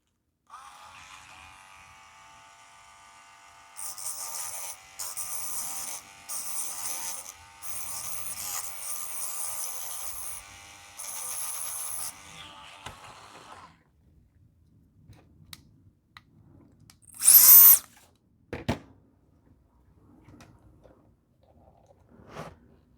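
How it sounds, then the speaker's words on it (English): Sanding a Tamiya buggy body post with a small powered tool gives a thin buzzing whir in several bursts. A faint, brief scrape or click follows in a mostly quiet space. "I just gotta sand this just a little bit"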